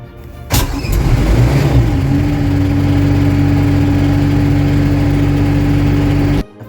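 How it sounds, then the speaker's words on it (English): An engine cranks and fires up, then settles into a steady, loud idle with a constant low hum, running alone until it cuts off near the end. "Now you can start the engine."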